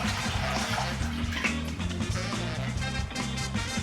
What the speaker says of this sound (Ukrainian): Бачите, як повільно тече вода з цієї пляшки